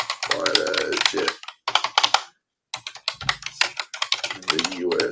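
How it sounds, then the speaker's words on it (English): Rapid clicking keystrokes on a clicky computer keyboard while typing a query into an AI slide-deck tool, with a person talking over much of it and a brief pause in the middle. "Well, that's a clicky keyboard."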